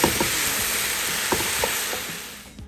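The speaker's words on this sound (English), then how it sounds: "I'm gonna saute that for a minute," Chopped orange, yellow and red peppers with jalapeno sauté in a hot pan, a steady close sizzle with a few soft clicks of stirring, fading slightly toward the end.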